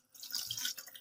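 Water splashes and trickles briefly into a cooking pot while rice pulao with peas is being made, a short soft pour with no voices.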